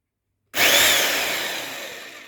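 A new rotary hammer drill is switched on for its first test run, starting abruptly after silence and then whirring loudly and steadily with a slowly fading high whine, no voices.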